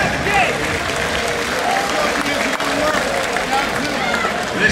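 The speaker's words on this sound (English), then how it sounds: "We're going to give a big round of applause to your professional grapplers who put it on the line today" Steady applause from a crowd at a grappling tournament, honoring the competitors after the day's matches, with clapping and a faint murmur of voices running continuously at a constant level.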